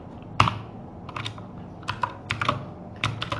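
Keys clatter on a computer keyboard as C code for a switch statement with printf lines is typed, a run of irregular clicks and taps close by, with no talking.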